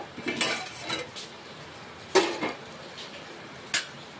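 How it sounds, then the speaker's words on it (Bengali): A metal lid is lifted off a pan of cooking chicken korma in a home kitchen, giving a few sharp clinks and clatters spaced across a few seconds, with soft kitchen noise between them and no talking. "এবারে আমরা ঢাকাটা খুলে একবার দেখে নেব।"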